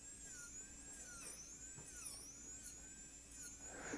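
A dental drill with a fine diamond bur bevels the edge of a tooth prepared for a gold onlay. It gives a faint, continuous high-pitched whine with small pitch wobbles as it moves along the tooth.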